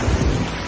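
Rain pours at Diveagar beach in the morning, a loud dense wash of drops with a deep rumbling low end, continuous and close for under a second.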